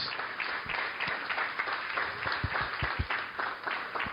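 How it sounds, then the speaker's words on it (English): Audience at an end-of-year celebration breaking into steady applause, a dense patter of many hands clapping at moderate distance, fairly soft and even throughout. "Round of applause."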